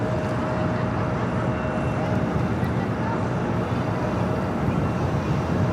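Jet airliner rolling down runway 25 Right at Los Angeles International Airport on departure, a steady, dense broadband roar with a faint tonal whine, continuous and fairly distant throughout.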